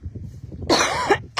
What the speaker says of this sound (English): So I apologize for coughing.